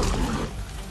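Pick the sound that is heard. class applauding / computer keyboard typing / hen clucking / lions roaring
lions roaring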